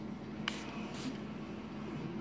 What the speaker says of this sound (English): I'm gonna show you real quick the use as a makeup setter. So basically, just a little spray bottle